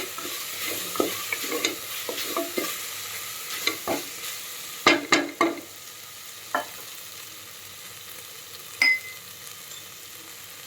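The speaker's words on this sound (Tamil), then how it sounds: "இப்போ கல்லுப்பு சேர்த்ததால் தக்காளி கொஞ்சம் சீக்கிரமாக வதங்கிட்டு வருது" Tomatoes with rock salt sauté in a pan under a soft continuous sizzle, punctuated by irregular spatula scrapes and taps, clustered early then sparser, close up.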